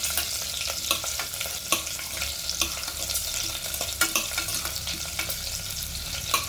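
Biryani masala with a green chilli sizzles in hot oil in a pan for a chicken biryani, with a steady frying hiss and regular scraping stirs of a spoon against the pan, close and alone.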